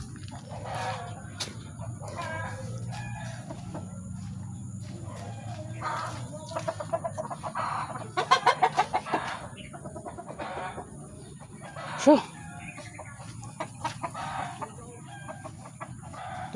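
Chickens on a rural homestead cluck steadily nearby while a rooster crows in short bursts, with a brief spoken word early and faint background noise.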